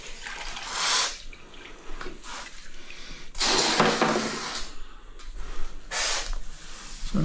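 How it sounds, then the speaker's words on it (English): A grout sponge being washed out in water, with repeated bursts of sloshing, splashing and dripping separated by short quieter gaps, close by with no talk. "A DIY would wipe a little bit like that and then wash out a sponge."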